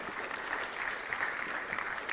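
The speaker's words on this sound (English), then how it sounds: "I'd like for the students to give you a round of applause at this time." At a student awards banquet, students keep up steady, dense applause at moderate distance for the whole short stretch, with no break.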